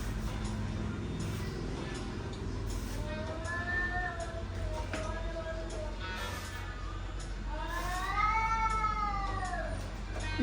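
A cat meows twice nearby, first a short cry and later a longer, drawn-out wail, over a steady low background hum.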